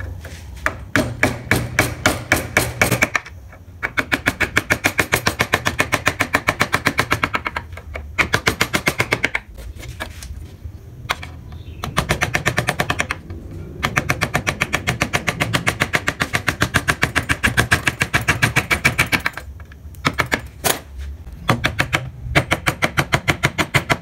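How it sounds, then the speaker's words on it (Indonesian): Chisel struck repeatedly with a mallet while carving a Pajajaran-style wood ornament with a marking chisel, producing loud, rapid, steady taps in long bursts separated by brief pauses. "yang pertama kalian gunakan pahat coret, nih pahat coret untuk memberi dasaran ornamen."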